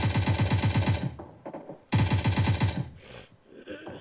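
Rapid automatic gunfire from the PUBG Mobile Lite zombie mode video game, a loud burst of evenly spaced shots, a pause, then a second burst, with softer scattered game noise afterward.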